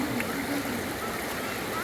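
Cold mountain stream water rushes steadily past, a continuous close hiss of flowing water with faint gurgles, heard alone.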